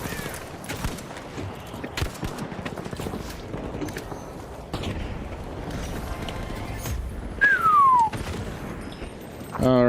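Minigun fire in the video game The Finals roars as a dense, sustained burst of rapid shots that runs almost unbroken for about ten seconds and swells louder near the end.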